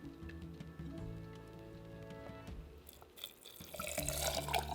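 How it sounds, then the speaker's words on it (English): Broth poured into canning jars while preparing keto taco soup, a steady liquid splash and trickle that turns louder and more gurgling near the end, heard alone and close. "now we're gonna pour our broth here"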